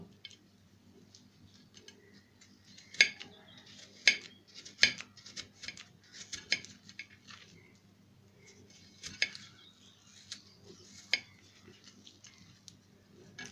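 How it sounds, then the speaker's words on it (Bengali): Knife slicing apples thinly on a board for homemade apple cider vinegar: sharp irregular clicks and taps, close and clear, over a quiet low hum with no talking. "এই অ্যাপেলগুলোকে একদম পাতলা স্লাইস করে নিতে হবে"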